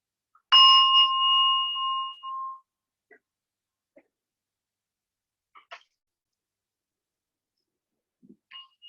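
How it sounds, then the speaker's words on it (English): Single clear ring of a meditation bell closing a chair yoga session, a bright struck tone that sustains for about two seconds and fades into near silence, followed only by a few faint, scattered small noises. "We'll ring the bell one final time to bring us back into this moment."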